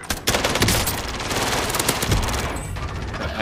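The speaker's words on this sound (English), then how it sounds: "he's shooting at me again" Dense automatic gunfire in a first-person shooter game, a fast continuous rattle of loud, close shots running almost without a break.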